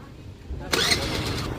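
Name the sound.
Honda Activa scooter engine starting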